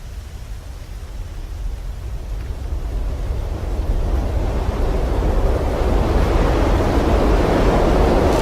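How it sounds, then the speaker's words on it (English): Wind rushes against the fuselage of a falling Avianca airliner, a broad roaring noise that swells steadily louder and deeper, alone without voices. "of the wind against the fuselage as the plane drops from the sky"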